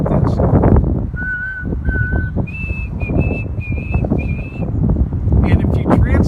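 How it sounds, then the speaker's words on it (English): White-throated sparrow song, a few clear thin whistled notes, the first pair lower and the rest higher in a steady series, heard faintly under someone talking and heavy wind or rumble. "One bird that is moving through right now, called the white-throated sparrow, has a song that you may have heard."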